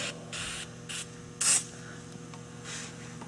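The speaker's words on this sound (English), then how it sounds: "And then we'll spray the actual molding itself as well." Several short hissing bursts from a spray bottle of glass cleaner onto window channel molding of a 1973–1980 Chevy truck, one at a time with brief pauses between, close by in a quiet room.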